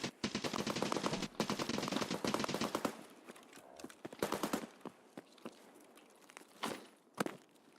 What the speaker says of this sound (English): He was shooting at somebody down below him.